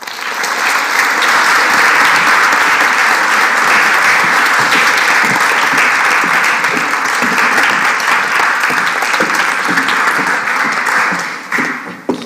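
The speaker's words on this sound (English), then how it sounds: "Can everyone please give a warm round of applause for Grace Beverley?" A Cambridge Union audience gives a warm round of applause for a guest speaker, dense sustained clapping from a full hall that holds steady for about eleven seconds before tapering off.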